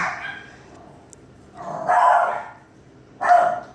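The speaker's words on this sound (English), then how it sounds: "Sorry, that's my dogs." Pet dogs at home bark in three separate bursts: a short one at first, then a louder, fuller bark, then a sharp final yap, all fairly close.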